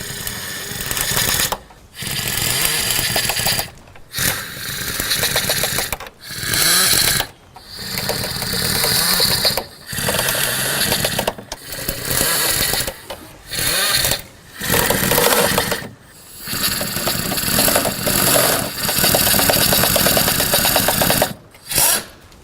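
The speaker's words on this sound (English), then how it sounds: "bottom out all the bolts starting from the center, working my way out" Power tool driving bolts down one after another from the center outward, a series of loud buzzing bursts of a few seconds each separated by short pauses.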